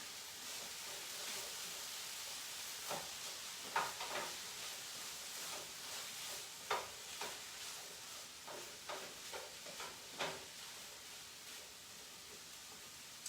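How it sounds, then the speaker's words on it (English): Vegetables sizzle with a steady hiss in a frying pan as they are stirred, scattered soft scrapes and clicks of the utensil rising above the constant faint frying noise. "stir my veggies a little bit"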